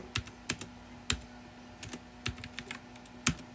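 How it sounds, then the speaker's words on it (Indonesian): Separate keystrokes on a computer keyboard in an irregular, unhurried rhythm, close and clear over a steady electrical hum, with no voices. "Jadi kalau misalkan ketik di sini rules"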